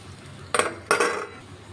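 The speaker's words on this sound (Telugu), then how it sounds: "ఇప్పుడు ఒక ఐదు నిమిషాలు మూత పెట్టేసుకుందాం" Two quick metallic clanks come close together as a lid is set onto a cooking pot holding okra stew. They are sharp and ringing, then fade against a quiet kitchen background.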